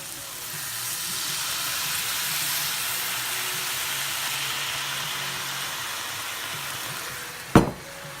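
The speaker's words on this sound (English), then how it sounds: "we're going to let that simmer for about 10 minutes covered" Chicken Marsala with vegetables, Marsala wine and lemon juice simmers in a covered pan, giving a soft, steady sizzling hiss throughout, with one sharp clack near the end.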